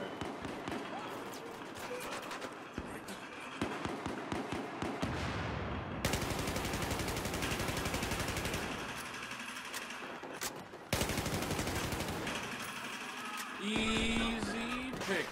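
Gunfire in Battlefield 4, sustained rapid bursts of automatic fire that start and stop in loud stretches, with a short tonal sweep at the end and a voice speaking over parts of it.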